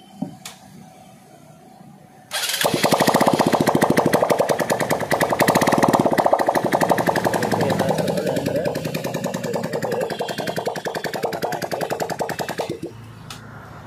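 A motorcycle with a freshly repaired self-starter motor fires up after a quiet moment and runs loudly and close for about ten seconds with a rapid, rattling idle, then cuts off.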